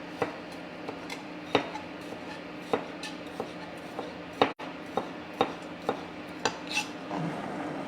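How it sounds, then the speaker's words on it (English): Knife chopping vegetables into chunks for a vegetable curry on a board, a steady series of sharp, close taps spaced about half a second apart, with faint kitchen hum beneath. "So we'll just chop those up."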